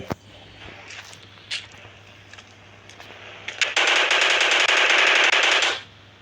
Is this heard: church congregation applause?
no